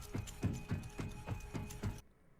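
Octane's robotic legs in the Apex Legends video game thud through seven heavy, rhythmic footsteps with a mechanical edge, then stop suddenly into near silence.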